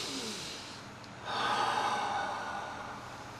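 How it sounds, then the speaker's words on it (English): One person drawing a slow, deep breath close to the microphone, a soft airy inhale that swells and then gently fades, with no talking. "So you took a breath."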